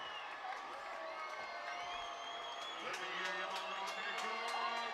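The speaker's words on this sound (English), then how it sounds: "Listen to the crowd. It is getting loud here." A high school football crowd at a Spruce Creek Hawks at FPC Bulldogs regional quarterfinal grows loud, with cheering, whoops and shouts swelling across the stands while a commentator talks over the noise.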